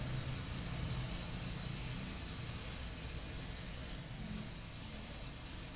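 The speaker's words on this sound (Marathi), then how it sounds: "अर्धा चमचा जिरे, 5 ते 7 लसणाच्या पाकळ्या तेलामध्ये परतू" Cumin seeds and five to seven garlic cloves frying in hot oil for a peanut chutney, a steady broadband hiss and crackle of even loudness with no talking.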